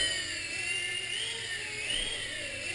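A small Blade mSR remote-control helicopter flies nearby, its rotor and motor giving a steady high-pitched whine that drifts slightly in pitch and carries on without a break.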